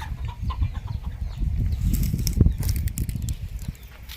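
Ducks and chickens forage at a rural farm field hut in the evening, giving soft, scattered clucks and rustling with occasional wing flaps. The sounds are near but fairly quiet over a low outdoor background.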